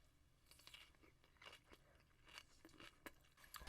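Quiet, close crunching and chewing while eating a wrap of oak wood-fired roast duck, with sparse, faint bites and mouth sounds scattered through near silence.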